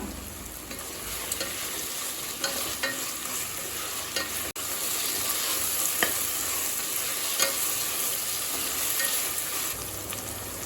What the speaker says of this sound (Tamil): வெங்காயம் தக்காளியை நல்லா வதக்கிக்கலாம்